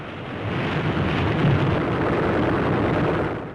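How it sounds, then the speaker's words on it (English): A deep, rumbling blast swells and rolls on for several seconds, an aerial bomb exploding near a warship in 1944 combat, muffled by distance with a sustained low roar. "Another enemy bomb barely misses its target."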